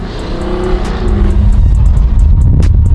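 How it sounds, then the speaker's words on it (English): A car engine revs hard and rises in pitch, loud and close, with a throaty exhaust growl and sharp crackles as it accelerates. "I cannot believe you get that sound out of this car stock."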